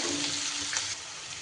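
Chopped onion hits hot oil in a pan while potol chingri is being cooked, giving a soft, hissing sizzle that fades slightly partway through, faint and heard alone.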